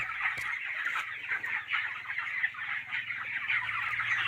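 Twenty-day-old poultry chickens in a sand-floored straw farm shed clucking and chirping continuously as a dense flock, moderately near.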